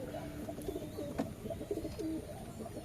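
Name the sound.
pigeon cooing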